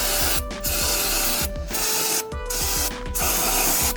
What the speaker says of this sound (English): I'm going to spray this stuff down with brake cleaner real quick